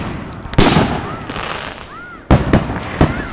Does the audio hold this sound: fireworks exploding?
yes